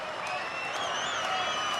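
A huge crowd cheers and applauds at a Red Bull Soapbox race in Paris, a dense, continuous roar of many voices with whistles and shouts, loud and steady throughout.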